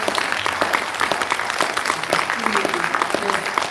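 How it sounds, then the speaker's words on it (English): A crowd at a reparations task force listening session in San Diego claps to welcome visitors from LA, loud, close, continuous applause with a few voices mixed in. "give our friends from LA a warm welcome with a hand clap"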